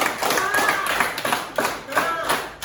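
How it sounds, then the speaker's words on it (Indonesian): Students in a classroom give a classmate a round of applause, fast scattered clapping with voices talking through it. "Tepuk tangan dulu buat Bulan, dia jujur loh."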